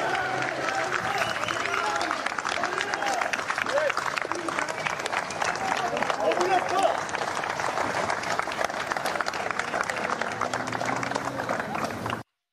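A street crowd of police officers in Marseille applauds in dense, continuous clapping for about twelve seconds, with scattered voices and shouts mixed in before it cuts off abruptly.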